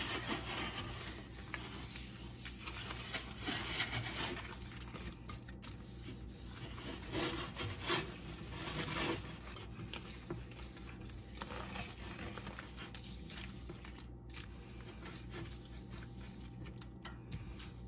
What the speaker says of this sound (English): I'm using my butter wrapper, still has some butter on it to grease my pan